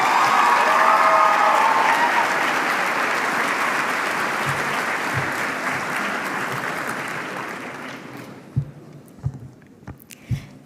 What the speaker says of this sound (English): Please join me in welcoming to the stage with a big round of applause